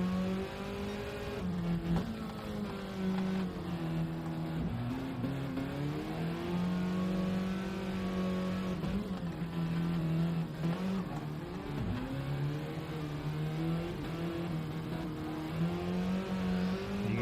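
Mini Cooper race cars rev and accelerate around a track, engine notes rising and falling through gear changes, loud and close, with several cars overlapping in a continuous racing drone.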